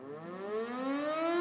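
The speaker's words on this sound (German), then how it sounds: "muss ja selber die Sirene anmachen, anders geht's nicht." Fire department siren in the Landwirtschafts-Simulator 22 farming game, a single rising wail swelling steadily over about a second and a half, clear and alone.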